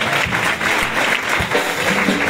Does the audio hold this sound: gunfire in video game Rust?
no